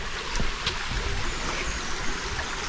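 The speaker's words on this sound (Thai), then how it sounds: "เป็นน้ำตกยาวลงมาเลยครับ" A long waterfall cascading through a forest in Sakon Nakhon, Thailand, heard as a steady broadband rush of falling water that runs without a break at moderate level.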